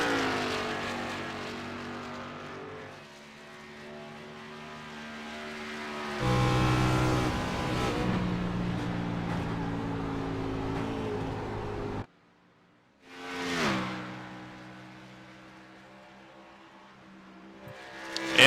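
An onboard race car engine from a Pocono Raceway round of the Karts To Computers Racing Series video game drones and shifts pitch as it revs through gears, briefly drops away, then climbs again.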